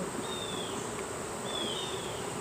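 Honeybees swarm and drone around an open hive frame during late-summer hive work, a steady insect buzz filling the scene with a couple of brief higher-pitched whines passing close by.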